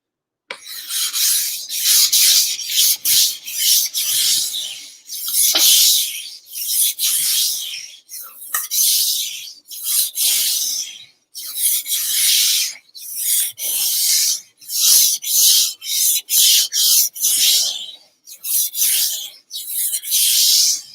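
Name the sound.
kitchen knife being sharpened on a whetstone finishing stone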